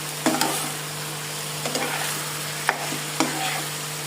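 Red chili and spices frying in a pan with chopped onion, garlic and ginger, a steady close sizzle punctuated by four or five scraping strokes of a spoon stirring the mixture.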